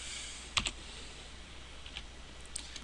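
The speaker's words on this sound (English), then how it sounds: "you just type in that friend's name" A name is tapped out on a computer keyboard, a couple of light, close keystrokes followed by a few fainter taps spread out over a quiet room hiss.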